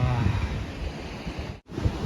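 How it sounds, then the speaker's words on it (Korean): Ocean waves crashing against the rocky Norwegian coast, a loud broad rushing roar with wind buffeting the microphone, continuous apart from a brief dropout near the end. "여기 지금 파도 미친듯이 치고 있는데"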